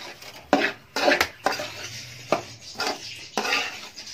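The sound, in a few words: spoon stirring semolina as it roasts in a pan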